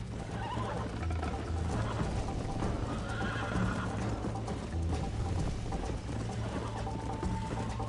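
A horse in Red Dead Redemption neighs and whinnies while throwing its rider, with clip-clopping hooves, all under a steady, dense layer of game sound.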